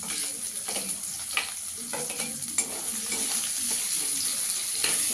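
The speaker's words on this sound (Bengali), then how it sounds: "এবার পেঁয়াজ কুচিটা দিয়ে দেবো।" Chopped onion goes into a frying pan for dal fry, sizzling steadily up close with soft stirring scrapes and light crackles throughout.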